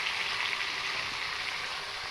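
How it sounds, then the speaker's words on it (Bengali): Vegetables fry in a pan for a Bengali hilsa dish, giving a steady, loud, dense sizzle that holds evenly throughout with no voices. "সবজিগুলো প্রায় ভাজা ভাজা হয়ে গেছে।"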